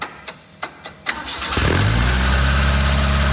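A car engine cranks in a few short bursts, then catches and settles into a loud, steady idle at a fuel stop.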